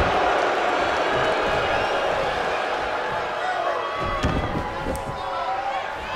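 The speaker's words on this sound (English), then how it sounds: "drop kick" Drop kick landing in WWE 2K20 wrestling, a dull slam cutting through steady, loud crowd noise and cheering that fills the whole arena throughout.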